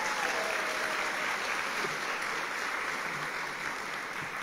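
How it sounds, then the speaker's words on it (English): An audience claps without a break at a service dog graduation ceremony, a dense, even rush of applause that holds steady throughout with no talk over it. "How about a big round of applause for"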